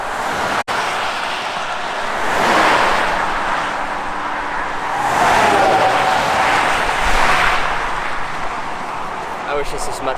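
Steady traffic flows along a Michigan road, loud vehicles swelling as they pass close by, one after another, in a constant roar with gusts of wind.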